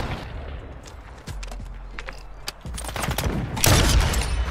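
Sniper shots and other game gunfire in a Search & Destroy match, a series of sharp bangs and booms building toward a loud burst near the end over steady background noise.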